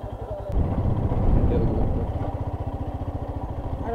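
A motorcycle engine idles at a bike parking area en route to the Adiyogi Shiva statue at Isha Foundation, Coimbatore, a steady low rhythmic putter running throughout, loud and close, swelling briefly near the start.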